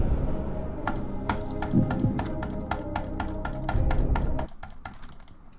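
Rapid clicking on a computer mouse or keyboard during a game, about fifteen sharp, close clicks in quick regular succession over low background noise.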